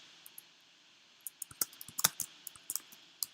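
Light, quick keystrokes on a computer keyboard while entering random values to open a color picker, starting with a couple of isolated taps and then a busier run of close, crisp clicks.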